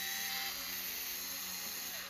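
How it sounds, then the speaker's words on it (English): A small electric screwdriver whines steadily and closely as it backs out the screws holding the battery cover of a JBL Charge 6 speaker, a constant high drone with no talk. "Next, we'll remove 4 screws to detach the battery cover."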